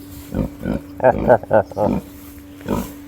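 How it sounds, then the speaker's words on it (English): Farm pigs grunt and snort in a series of short, close bursts, several in quick succession with a pause before a final grunt, over a faint steady hum. "I take a look at the pigs"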